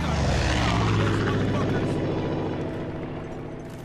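An aircraft drones overhead in the video game Far Cry 5, a loud, steady propeller-engine roar that slowly fades as it passes, with someone talking over it.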